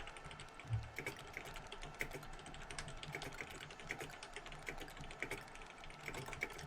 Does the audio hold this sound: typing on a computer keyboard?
yes